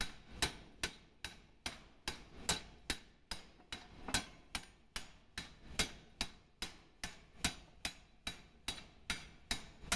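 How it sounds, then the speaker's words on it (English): Heavy 500-weight Massey power hammer pounding a 23 kg hot steel forging, about two dozen sharp, loud strikes in a steady, fast rhythm close by. "The repeated strikes of the hammer compress the steel"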